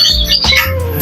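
Birds squawk in an aviary at a safari park, a loud, close, harsh call filling about a second with no talk over it.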